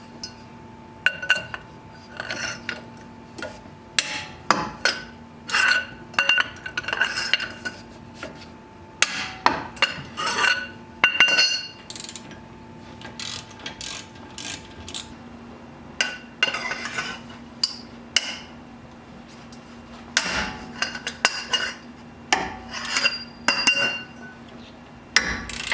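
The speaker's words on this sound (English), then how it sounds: "sometimes we'll need to use a breaker bar to get them loose" Metal tool work on Jeep front hub bolts during a ball joint replacement, heard as a long series of sharp close metallic clanks and clinks in irregular bursts, with no speech.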